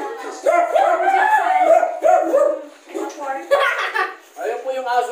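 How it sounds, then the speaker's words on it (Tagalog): A dog outdoors barks and howls in drawn-out, wavering cries with short breaks between them, fairly loud and close, with no talk over it. "Ayun po yung aso ko doon sa labas."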